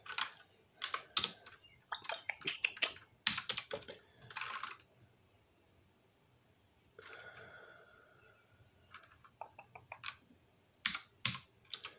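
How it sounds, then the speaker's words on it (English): Quiet, close typing on a computer keyboard with one hand, coming in short irregular bursts of clicks separated by pauses, with faint breathing in the background. "It doesn't help when I'm typing with one hand."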